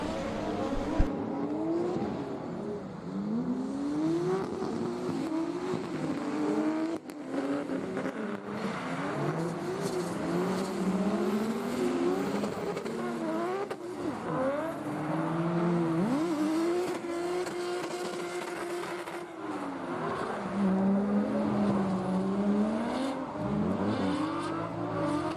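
Drift cars at a Superdrift round race track, engines screaming and revving hard with continuous wavering pitch sweeps, loud and close for the whole stretch, with no talk over them.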